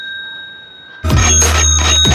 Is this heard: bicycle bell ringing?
yes